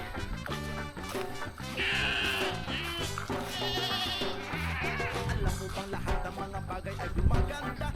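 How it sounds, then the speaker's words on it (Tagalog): Goats bleat repeatedly nearby, wavering cries overlapping one another in an uneven series, loud and close. "kasama na po yung kambing"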